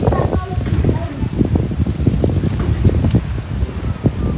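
Strong stormy wind buffets the microphone outdoors near mango trees, a loud continuous rumble with gusty surges throughout, while a voice talks over it.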